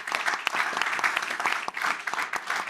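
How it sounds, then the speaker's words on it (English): Conference audience giving a round of applause for a panel guest, a full sustained burst of clapping at close range. "This is your round of applause."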